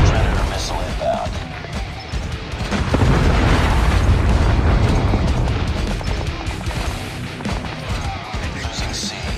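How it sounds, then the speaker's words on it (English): A Predator missile explosion in Call of Duty Mobile lands as a heavy, sustained boom with a crashing rumble that fills the mix, loud and close, with game announcer voices around it. "Predator missile inbound."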